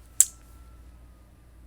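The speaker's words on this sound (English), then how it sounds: "so I end up like snipping each of the corners with my little" A single sharp snip of small craft scissors trimming the corner of folded card paper, one quick crisp cut close by in an otherwise quiet room.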